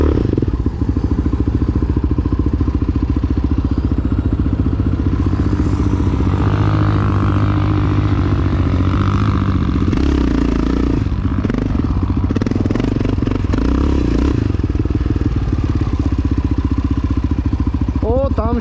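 An enduro motorcycle engine starts up and keeps running close by, its revving and clattering rising and falling under people talking throughout.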